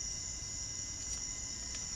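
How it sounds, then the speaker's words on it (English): A steady high-pitched electrical whine with a faint whirring hum underneath from the cooling fans of four LED car headlight bulbs, continuous and unchanging, fairly quiet with no voices. "So now you can hear all 4 fans going off"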